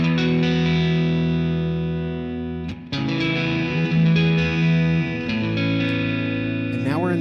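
Electric guitar played through a VOX AC10 amplifier with light overdrive breakup, sustained chords ringing and decaying, then a fresh strum and a short sliding note near the end.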